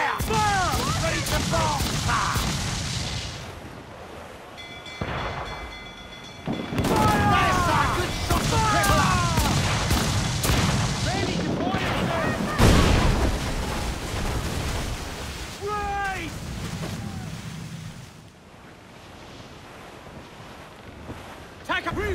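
Naval battle in Assassin's Creed 4, with ship cannons firing in volleys over wind, ocean waves and creaking hull noise, booming shots scattered through the scene while crew voices shout orders.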